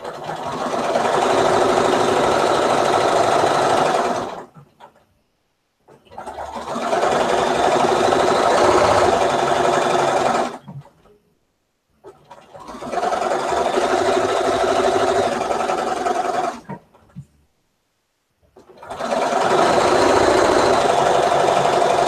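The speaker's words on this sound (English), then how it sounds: "Sewing along." A sewing machine stitches quilt pieces in four long, even runs of steady whirring, each stopping in a brief silence before the next begins, heard alone and close.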